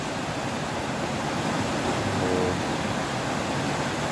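Rainwater rushes steadily during a downpour by a home garden, a dense, constant roar of flowing water at even loudness throughout, with no voices.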